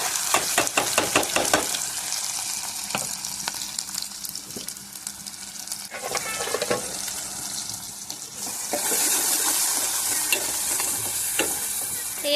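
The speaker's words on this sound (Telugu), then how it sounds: "ఆయిల్ అయితే హీట్ అయిపోయింది. ఇప్పుడు ఉల్లిపాయ, పచ్చిమిరపకాయ, టమాటా ముక్కల్ని ఇందులో వేస్తాం." Onion, green chili and tomato pieces drop into hot oil for an eggplant fry, giving a loud, steady sizzle with stirring clatter and scraping throughout, the frying hiss swelling brighter and denser toward the end.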